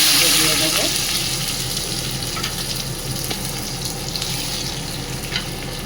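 Onions fry in oil with a pinch of sugar, ahead of spices, for a taro dish. A steady, close sizzle starts slightly louder and then settles into an even hiss.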